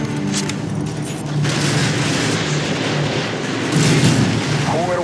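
Missile strike explosions in Call of Duty: Modern Warfare 2: deep, rolling booms pile into a sustained heavy rumble that swells louder near the end.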